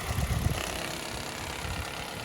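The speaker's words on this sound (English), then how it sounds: "That's actually this washer, this little washer thing just shaking." A running car engine bought at auction idles with a steady, low mechanical drone while a small loose washer shakes on it; the rattle blends into the close, even engine noise, with no talking.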